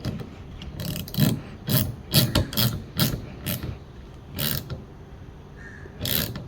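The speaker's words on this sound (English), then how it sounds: "while you're tightening, make sure you hold it so that it doesn't move" A rear wiper arm nut is turned by hand, giving close, irregular mechanical clicks and short scraping rubs in uneven bursts, with no speech.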